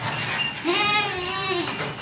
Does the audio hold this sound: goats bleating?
yes